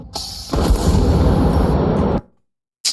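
A homemade high-voltage lightning minigun fires in one loud, sustained crackling roar for about two seconds, then cuts off to silence before a brief final snap.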